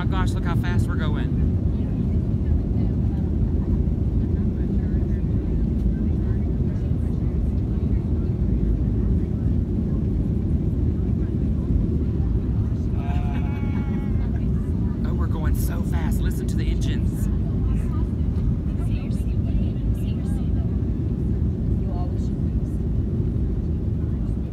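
Airliner jet engines roar loudly and steadily during a takeoff run, with wind rush blending into a continuous heavy low rumble; brief faint voices surface partway through.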